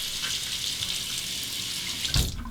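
A running water tap rinses a shaving razor, a steady hissing stream at close range with a brief splash near the end, with no talking.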